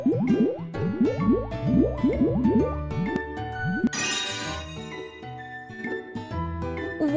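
Cartoon squishing and dripping effects for soap bubbles lathered on characters' faces in a children's healthy-habits game, a quick series of squelchy pops over a cheerful music bed.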